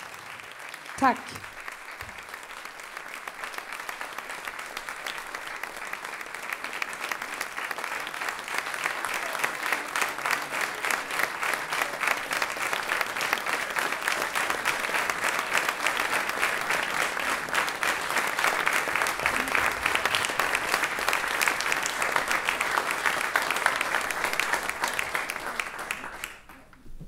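Sustained audience applause at a fundraising concert for refugee children in Växjö, swelling into loud, dense clapping that fills the hall for most of the stretch, after a brief spoken thank-you at the start.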